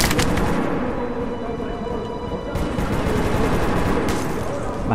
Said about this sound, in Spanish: Esta parece que es una especie de escopeta.